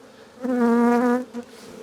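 Disturbed honey bees roar at an opened hive after a whole comb has broken off. A loud, close, steady buzz swells for most of a second, then gives one brief extra burst. No one speaks.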